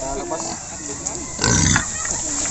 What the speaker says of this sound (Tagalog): Ang pinili ang baboy.